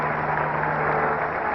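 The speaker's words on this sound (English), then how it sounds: "naturally, a partisan Baltimore crowd, but a very good round of applause, is for this strong New York Mets pitcher, Jerry Koosman" A partisan Baltimore stadium crowd at the 1969 World Series gives a round of applause for New York Mets pitcher Jerry Koosman, as a steady, broad wash of clapping heard at a distance.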